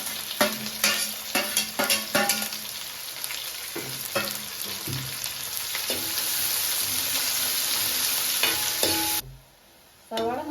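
Four chopped onions sauté in a pan for pepper chicken, a close, steady sizzle broken by repeated scraping stirs of a spoon, then cutting off abruptly near the end before a final brief clatter; nobody speaks.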